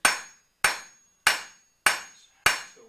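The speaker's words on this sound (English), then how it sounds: "You take a good hammer with a smooth face on it, no dents." A smooth-faced hammer strikes red-hot metal on an anvil in a blacksmith's forge, five sharp ringing blows at an even, unhurried pace, each decaying quickly, with no talk.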